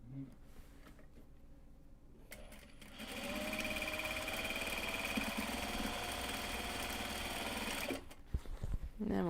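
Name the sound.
sewing machine sewing a seam of a drawstring bag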